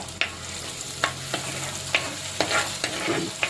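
Ground masala sautéing in hot oil for a Kerala-style fish curry, heard as intermittent scrapes of a spoon stirring the pan over a soft, steady sizzle, close and alone.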